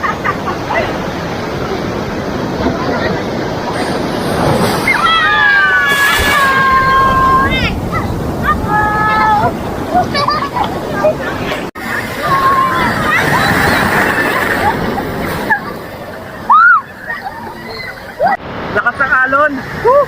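Strong sea waves wash and slosh steadily against a rocky beach, loud and continuous, with voices talking and shouting over the surf.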